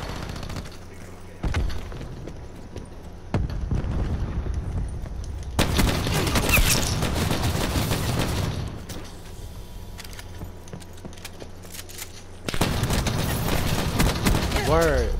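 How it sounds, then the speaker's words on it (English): A cluster grenade goes off in a Call of Duty Black Ops 4 free-for-all match, loud bursts of booming gunfire and blasts rolling through the round while a player talks over the game sounds. "Cluster grenade going out."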